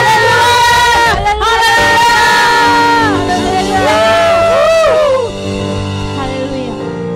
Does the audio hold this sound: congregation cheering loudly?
yes